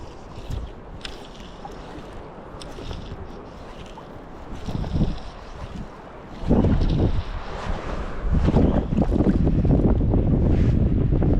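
Steady wind buffeting a microphone outdoors near water while fly fishing for sea bass, a constant rushing roar that grows louder and gustier toward the end.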